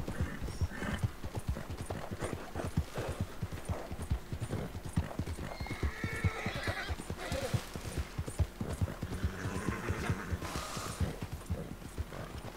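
A video game horse's hooves clip-clop in a steady trotting rhythm close by, with an occasional whinny, continuing throughout without voices.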